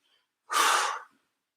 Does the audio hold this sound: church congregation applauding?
no